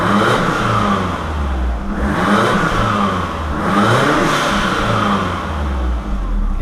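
A Foz car engine revs and accelerates with a loud, steady mid-range roar that swells and eases a few times. The exhaust runs without twin turbos. No one speaks.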